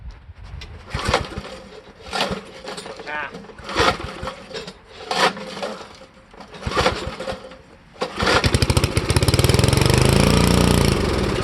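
A vintage Parker thatcher engine is cranked over in a series of loud, separate pulls, then catches near the end and runs with a rapid, steady, buzzing rattle, close to the listener.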